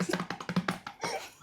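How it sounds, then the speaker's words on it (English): A quick round of hand clapping on a travel-industry podcast: a short run of close, crisp claps that then trails off into softer, more scattered sound. "Round of applause."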